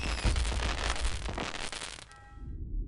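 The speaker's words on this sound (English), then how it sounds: "See? All the same color of fireworks," Fireworks going off in the Crossy Road video game: a dense burst of crackling pops and booms filling a couple of seconds, then thinning out into a short fading tail.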